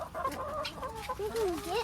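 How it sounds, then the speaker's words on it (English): Broody hens in a chicken coop cluck and murmur close by, a run of soft, pitch-bending calls over a quiet background. "look at all these broody chickens"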